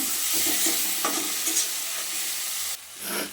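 Onion paste, cumin paste and ginger-garlic paste frying in a pan, a steady close sizzle with stirring scrapes running throughout, briefly dipping near the end before rising again.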